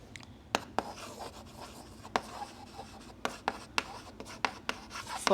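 Handwriting on a board during a lecture: a series of sharp, close taps and short scratchy strokes in an irregular rhythm, with faint room noise between them.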